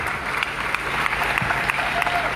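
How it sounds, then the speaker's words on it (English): An audience at a university campus political event breaks into steady applause, a dense continuous patter of many hands clapping close by with no voices over it. "Round of applause."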